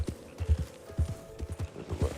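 Horse hooves clip-clop at a steady trotting rhythm while riding along back trails around cliffs in a video game, close and moderately loud, with a faint tonal hum underneath and no talk.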